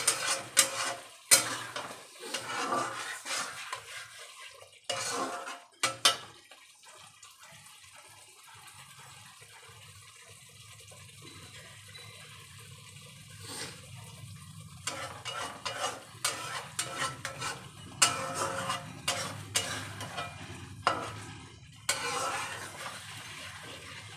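Masala being stirred in a pan over low heat, soft background sizzle with clusters of scraping and clanking spoon strokes, busier at the start and end with a quieter stretch in the middle.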